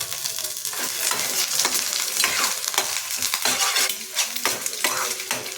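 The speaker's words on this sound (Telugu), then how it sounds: "మంచిగా ఫ్రై అవ్వనివ్వాలి ఎగ్ని" Egg frying with rice in a pan for egg fried rice, a dense close sizzle with frequent spatula scrapes and metallic clinks as it is stirred, fairly loud, no talking.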